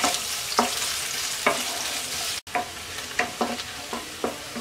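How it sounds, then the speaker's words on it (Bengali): Chopped onion with a bay leaf frying lightly in hot oil for Bengali-style moong dal, a continuous soft sizzle broken by periodic spoon scrapes and stirs, close up, with a brief cut midway. "পেঁয়াজটাকে হালকা ভেজে নেব।"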